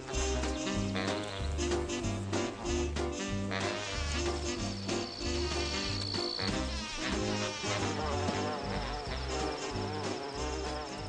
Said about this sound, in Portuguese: Abelhas solitárias.